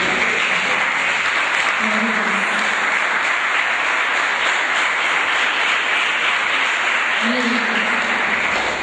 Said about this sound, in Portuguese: Você pode se sentar batendo palmas para o Senhor Jesus